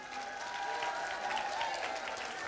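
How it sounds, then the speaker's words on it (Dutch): Sustained audience applause fills a Dutch variety show hall after a performance, dense and steady throughout at moderate distance, with a faint tonal hum beneath. "Nog een applaus alstublieft"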